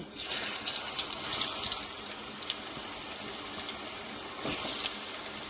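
Steady broadband hiss of potatoes with salt and turmeric sizzling in hot oil after frying fish, close up, with a brief stirring scrape and the frying continuing without speech.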